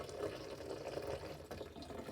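Liquid soap being poured over a kitchen sink gives a quiet, continuous trickling and gurgling, close by and soft, with no talking.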